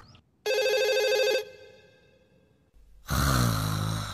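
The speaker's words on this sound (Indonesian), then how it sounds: "Ada telepon dari Suneo." A cartoon telephone rings in one loud, steady electronic burst lasting about a second, followed by a pause and then a different loud, broad sound.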